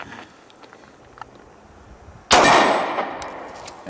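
A single sharp shot from a Sig Sauer P320 Compact pistol at an outdoor target lands with a loud metallic clang that rings and decays over about a second and a half, following faint earlier ticks.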